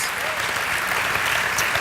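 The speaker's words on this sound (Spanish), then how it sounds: "Give it a mighty Jesucristo. hand to the one who Aleluya. deserves it" A church congregation gives a short, full burst of applause to Jesus during a bilingual Spanish-English service, a continuous dense wash of clapping.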